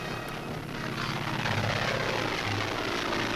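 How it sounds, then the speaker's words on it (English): A vintage 1909 Blériot monoplane and a 1910 Curtiss Pusher fly at an Air Force air show, their propeller engines making a continuous buzzing drone that swells slightly as they pass, with no voices. "a Bleriot monoplane, vintage 1909, and a race with the 1910 model Curtiss Pusher"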